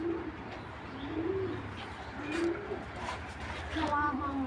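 A big female white tracer racing pigeon coos in soft, low, rolling phrases repeated several times, close by, with a voice talking over it.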